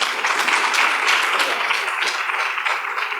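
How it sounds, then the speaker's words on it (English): An audience at a diverse and minority business forum gives a loud, dense round of applause, a steady wash of many hands clapping close by that tapers slightly at the end. "let's give them a nice round of applause"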